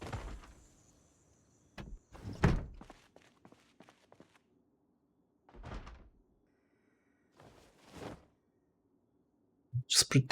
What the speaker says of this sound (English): Whoever's banging on doors here?